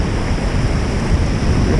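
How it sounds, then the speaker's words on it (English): Ocean waves off the swells rush in hard on a windy, rainy beach, a loud, continuous roar of surf churning close by, with wind buffeting throughout. "These little these rushes of water coming in off these swells are horrendous."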